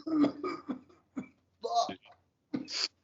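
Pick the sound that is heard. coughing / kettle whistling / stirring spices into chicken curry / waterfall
coughing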